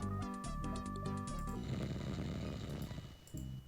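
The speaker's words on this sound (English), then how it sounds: "Snoring loudly upon a beautiful carpet lies a sleeping bandit." A sleeping bandit in the video game Cedric Quest snores loudly in repeated rasping, buzzy breaths, layered over tonal game music that fades partway through.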